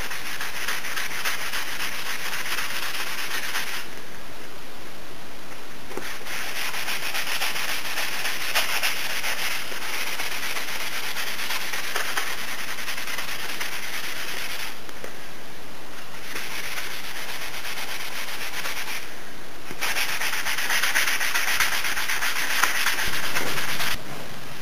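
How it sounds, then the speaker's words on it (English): Sandpaper of 200 grit rubs back and forth over a wooden rifle stock in long, close, steady strokes with brief pauses between passes, no talking. "Now on to our last bit of sandpaper, the 200 grain."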